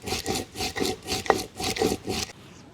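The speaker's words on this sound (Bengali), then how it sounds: "মূল্লা মাছের ঝাল বাটনার জন্য জিরা সরষা বেটে নেব।" Cumin and mustard seeds being ground into paste on a grinding stone, a close, rhythmic rasping scrape repeated in about six even strokes, then falling quiet at the end.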